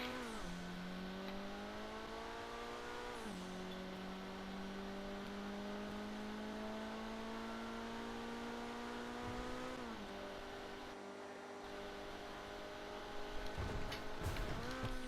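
A fully upgraded sports car in a video game revs hard with its tires spinning, engine tone climbing steadily through several gear shifts, loud and continuous with a brief dip near the end.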